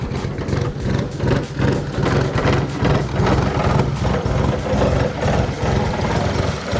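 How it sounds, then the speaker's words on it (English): A BMW E30 with a swapped Honda K-series engine idles roughly and a bit smoky, a steady close low rumble with uneven pulsing throughout and no talking. "it's running at least. And it kind of still has a rough idle"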